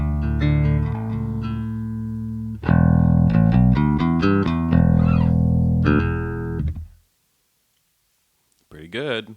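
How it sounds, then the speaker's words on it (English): Clean American Jazz bass played through a Noble tube DI preamp, a series of close, full plucked notes and short riffs ringing out before falling silent, with a voice briefly at the end. "And I'm using my American Jazz bass, and it sounds like this. Clean."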